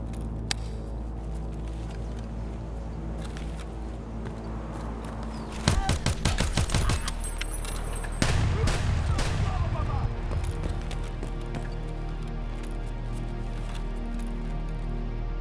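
Gunfire in the video game Escape from Tarkov arrives as a quick burst of rapid shots followed by a second, denser volley, heard over a steady low background hum with some talk.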